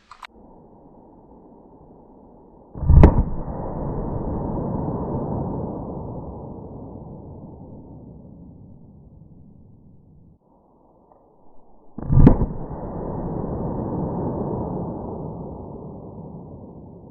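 Two loud, sharp gunshots from a .22 Magnum revolver, about nine seconds apart, each followed by a long rumbling decay in an outdoor ballistic gel test.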